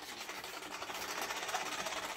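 A vacuum cleaner runs with a steady, buzzing motor whir. The sound is moderately faint and continuous with slight pulsing, and no one talks over it.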